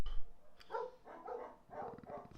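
Dogs bark in the evening as night falls, a series of about five moderately distant, rhythmic barks in a row against quiet background noise.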